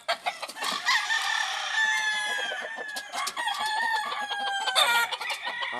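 Hens and a rooster clucking and calling in a breeding pen, a busy close chorus of overlapping clucks and crowing-like calls without pause.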